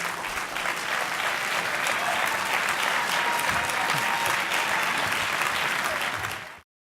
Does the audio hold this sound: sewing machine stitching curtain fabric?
no